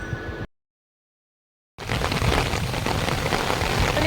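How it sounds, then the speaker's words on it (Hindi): Light drizzle patters as a steady, dense hiss outdoors at a family picnic, broken by a brief silent gap before resuming evenly. "बारिश थोड़ी थोड़ी हो रही है"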